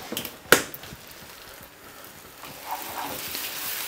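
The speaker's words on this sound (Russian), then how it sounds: "теперь ее обжариваем, перемешиваем." Frying and stirring in a pan while making chicken kharcho with bulgur and tomatoes, a sharp utensil clack at the start followed by a soft sizzle and light scraping that swells slightly toward the end.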